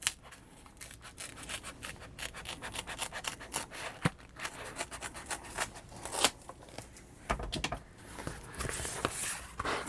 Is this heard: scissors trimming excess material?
yes